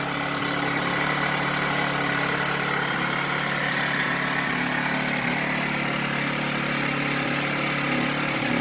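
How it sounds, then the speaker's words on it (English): A Generac 1200-watt portable inverter generator keeps running steadily after its fuel and vent are shut off, a constant mid-pitched engine hum with no change in pace, heard alone at moderate level. "It's literally taking forever to shut off."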